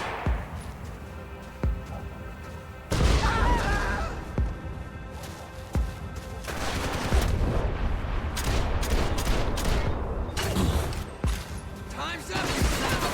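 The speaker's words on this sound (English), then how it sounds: "Gunfire over Hoboken." Sharp bursts of gunfire in the video game Max Payne 3 crack and boom at irregular intervals, some in quick clusters, with voices talking over the battle.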